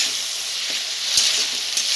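Onion paste frying in hot oil in a pan for a Bengali Amudini fish dopiaza, a steady close sizzle with a few soft stirring clicks and no talk.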